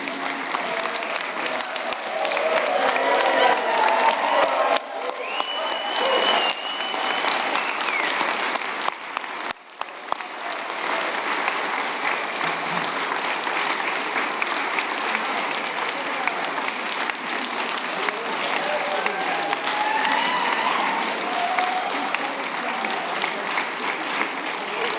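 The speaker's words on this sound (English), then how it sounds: "There's more applause for you." Sustained audience applause for a choir taking a bow at a live hip-hop show, a steady wash of many hands clapping that holds loud and full for the whole stretch with a brief dip partway through.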